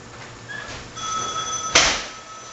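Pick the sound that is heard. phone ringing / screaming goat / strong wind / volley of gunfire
phone ringing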